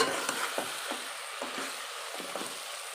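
Soya and vegetable pulao masala frying in oil and ghee in a pan, a steady close sizzle with soft scraping stir strokes recurring every half second or so.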